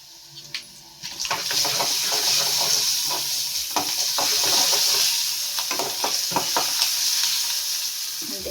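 Curry leaves, cumin, mustard seeds, dried red chillies and garlic hit hot oil for tempering a raw tamarind peanut chutney, setting off a loud, steady sizzle after a brief quiet start, with scraping stirs and clinks throughout.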